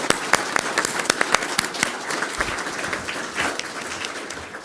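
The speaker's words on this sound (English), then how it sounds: "Let's give them one more round of applause." An audience at a school governing board meeting applauds students, a dense round of clapping in a hall that gradually thins toward the end.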